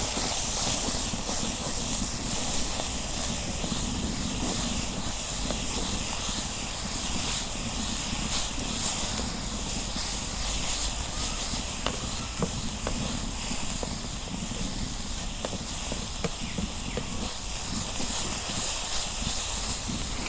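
Saag greens fry in hot oil with garlic in a village-style kitchen, producing a loud, continuous, close hiss and sizzle with faint crackles throughout and no voices.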